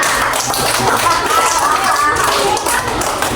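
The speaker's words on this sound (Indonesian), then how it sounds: "tepuk tangan untuk kita semua" A group in an elementary school classroom claps together in a dense burst of applause that lasts throughout, fairly close and loud.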